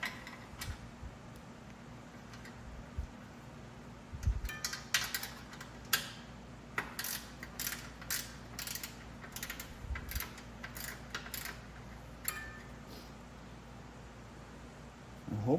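Wrench work on a 1967 Schwinn Typhoon bicycle during a rebuild: scattered light metallic clicks and taps from a 7/16 wrench and screwdriver loosening nuts, irregular and close, over a steady low hum.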